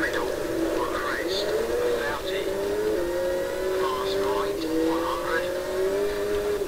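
Rally car engine in Richard Burns Rally revs and shifts steadily with whining tones and gravelly road noise, while a voice talks over it.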